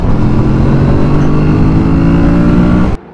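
A Kawasaki Z650 RS motorcycle engine revs loudly and steadily close by at high revs, a throaty rising drone that cuts off abruptly near the end.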